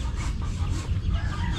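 Bantam chickens, Serama among them, cluck close by in a muddy backyard coop area, short busy calls layered over a low rumbling background.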